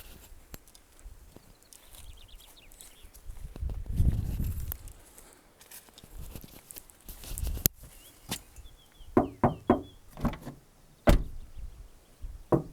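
Knocks on a Suzuki Ignis car door panel to test sound deadening, a few dull thuds early on, then a quick series of sharper raps and taps near the end, close and otherwise quiet.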